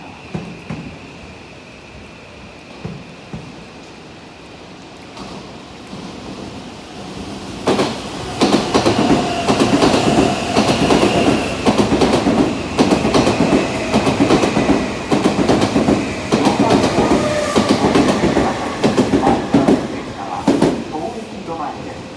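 An Odakyu Line train rumbles through Sagami-Ono station on the up passing track with steady clattering wheels, growing loud after a quieter stretch, as a station announcement voice plays faintly beneath.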